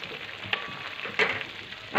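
Grated beetroot cooks in milk for beetroot halwa and is stirred in the pan, giving a soft bubbling sizzle with a few sharper scrapes of the spoon.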